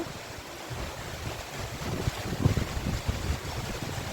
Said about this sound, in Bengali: দেখুন কত জোরে বৃষ্টি পড়ছে।